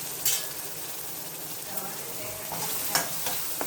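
Bottle gourd curry with green chilies fries in a pan with a soft, continuous sizzle, broken by a few sharper scraping stirs from a utensil, heard close and without talk.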